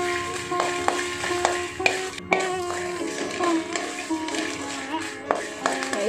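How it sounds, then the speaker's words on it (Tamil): Dry red chillies roasting in a hot pan without oil, a soft crackle broken by occasional light scraping and tapping as they are turned, close and fairly quiet. "எண்ணெயெலாம் விட வேண்டாம், வெறும் மிளகா வத்தல் மட்டும் போட்டு நல்லா சவக்க வறுத்து எடுத்துக்கலாம்"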